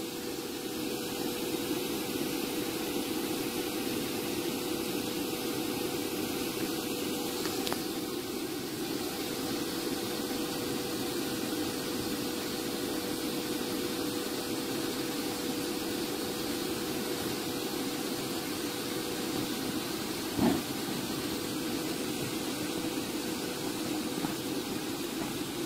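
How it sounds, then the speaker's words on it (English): An electric blower runs in a steady, continuous roar while it inflates an inflatable movie projector screen, close and constant for the whole stretch with no talking over it. "all that's left to do is to come turn our blower on"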